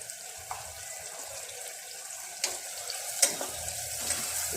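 A Kathiyawadi undhiyu vegetable mixture with turmeric, Kashmiri red chilli and salt is stirred in a pan: a soft, low sizzle with a few scraping clicks of a spoon, close and quiet, with no talking.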